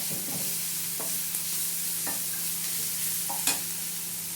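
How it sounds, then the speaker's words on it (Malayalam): Chopped tomato sautéing in a pan for a horsegram masala, a soft steady sizzle with occasional light spoon scrapes and taps, quiet and without talk. "ഒരു തക്കാളിനത് അരിഞ്ഞത് ഇട്ട് കൊടുത്തിട്ട് അതൊന്ന് വഴറ്റുക."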